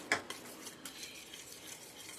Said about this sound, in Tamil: நல்லா கலக்குவோம்.